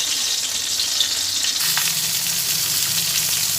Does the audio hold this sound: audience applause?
no